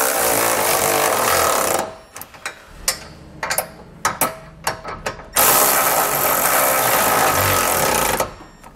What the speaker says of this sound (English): I'm going to grab a 19 millimeter socket and wrench or a 3/4 inch socket and wrench. And we're going to tighten up all of our hardware.